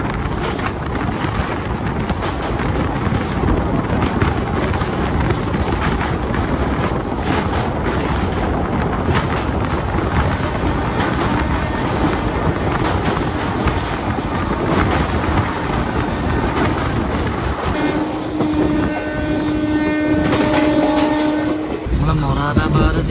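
A train pulls toward Moradabad junction on a Naini–Doon Jan Shatabdi, a steady loud rumble of wheels with wind noise throughout, and near the end a sustained horn blast sounds over the rolling clatter.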